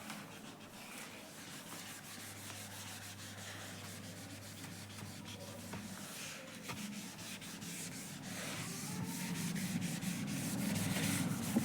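Dry rubbing of a board being wiped clean of writing in a classroom, a continuous scratchy scrubbing that runs steadily for the whole stretch with no talk, growing slightly louder toward the end.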